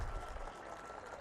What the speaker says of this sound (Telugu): మరి బాగుంటే గట్టిగా గవర్నర్ గారికి స్వాగతం పలకడానికి చప్పట్లు కొట్టండి.